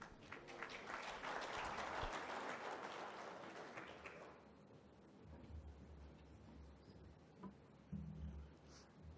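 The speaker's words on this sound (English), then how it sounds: "Would you please give them a warm round of applause?" Audience at an education conference session applauds in a dense, moderately quiet burst that fades after a few seconds, leaving room noise and faint rustling.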